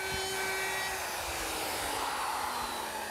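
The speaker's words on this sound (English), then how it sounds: "Now, we'll just sand it smooth." A power sander smooths a wooden carousel table top, producing a steady, loud whirring drone with a faint pitch slowly sliding lower, continuous and close with no speech.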